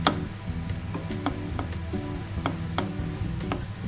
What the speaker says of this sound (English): Add the diced onions and cook them down until they start to turn translucent.